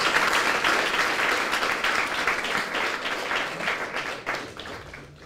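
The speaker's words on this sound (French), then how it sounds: "je voudrais que, au nom du gouvernement, que vous vous applaudissiez pour cette implication forte" A workshop audience at an international meeting on renewable energy development and financing gives sustained applause, a dense, even wash of many hands clapping that fades slightly toward the end.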